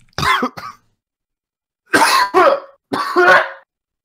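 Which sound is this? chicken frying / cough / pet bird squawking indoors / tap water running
cough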